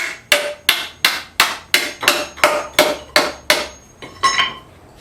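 Hammer blows drive nails through canvas into a wooden frame, about ten sharp, evenly spaced strikes ringing close and loud, the last one or two softer and duller.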